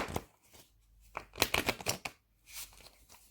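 Oracle cards being shuffled by hand in a quiet room, a few soft, brief riffling bursts separated by short pauses, close and faint.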